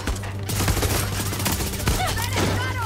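Gunfire in the video game Far Cry 6, rapid overlapping bursts of shots fired in a hectic fight, loud and continuous over about three seconds with some other game effects mixed in.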